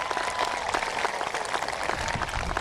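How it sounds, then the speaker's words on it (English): A graduation audience at a 2022 high school ceremony applauds, many hands clapping in a steady, somewhat distant roar that stays even for a few seconds. "Let's give a round of applause to this year's AP Scholars."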